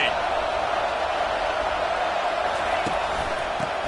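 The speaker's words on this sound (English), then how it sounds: "This crowd, full throat, splitting the eardrums and letting them know it's going to be a long day." A college football stadium crowd roars loudly, a sustained dense wash of cheering that stays steady throughout, with a commentator talking over it.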